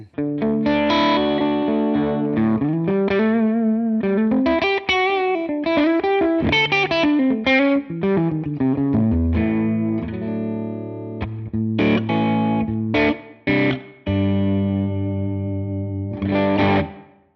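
Electric guitar through a Line 6 Helix Matchstick Channel 1 amp model, played clean to lightly driven with a chimey tone, ringing chords and melodic runs with modulation and echo, loud and close, alone with no talking.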